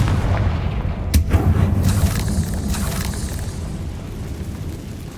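A Confringo spell explodes in the Hogwarts Legacy video game, a dense rumbling blast with sharp cracks and crackling debris that stays loud before slowly fading, with no voices over it.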